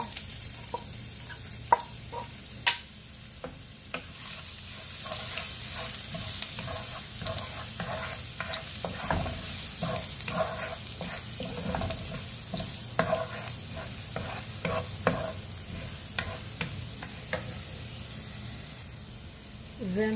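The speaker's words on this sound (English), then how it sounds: "now let's saute first the ginger" Ginger sautés over medium heat in a pan for spaghetti with white sauce, giving a continuous close sizzle and frying hiss broken by frequent clinks and scrapes of a stirring utensil.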